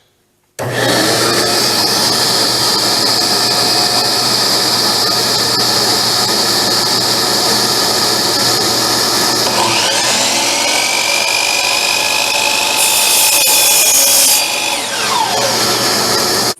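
A power saw runs steadily and loud, cutting pieces off restoration wood remnants for a serving tray, with a pitch shift partway through as the blade bites into the wood.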